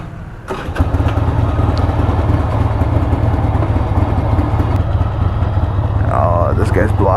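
A 1988 Harley-Davidson Sportster XLH 1200 starts with a sudden burst and then settles into a steady, loud, close rumbling idle that continues to the end.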